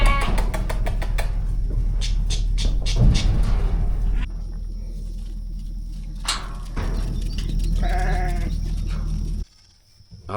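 Goats bleat on a farm, several wavering calls from near and farther away over a steady rumbling background, with brief clattering noises.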